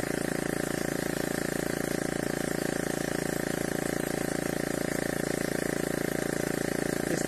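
Motorcycle engine driving a makeshift pesticide sprayer in a cotton field, a steady, loud droning hum with a continuous hiss of spray running unbroken throughout.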